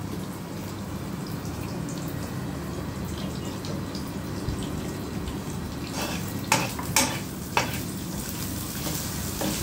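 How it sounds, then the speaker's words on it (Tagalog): Chicken scallop sizzles steadily while frying in a pan, with a few sharp utensil scrapes and taps from stirring near the end. "Ihalo-halo para pumantay ang pagkaprito ng ating chicken scallop."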